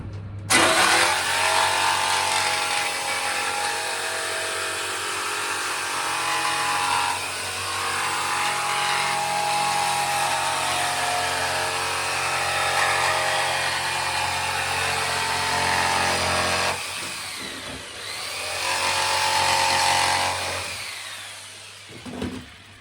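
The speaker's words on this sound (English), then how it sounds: "If I cut that out with a jigsaw" A jigsaw saws through wood for a narrowboat dinette joint, a steady buzzing motor drone running almost continuously for about twenty seconds, easing off briefly near the end and then rising again.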